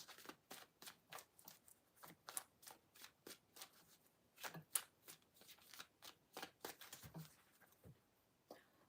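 Tarot cards being shuffled in a steady run of crisp riffling bursts, about two per second, close and clear with no talking.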